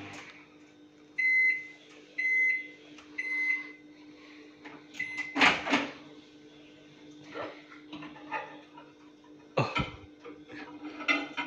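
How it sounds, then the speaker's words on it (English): A microwave hums steadily, with a few beeps early on and scattered sharp pops and crackles of peas popping, one louder burst in the middle. "Kind of sounds like there was popping in the microwave."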